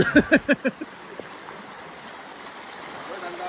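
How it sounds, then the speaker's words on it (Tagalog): Steady rushing river water flows throughout, a broad continuous wash in Agdangan, Quezon, Philippines, briefly overlaid at the start by a few short vocal bursts. "Yan ang ilog."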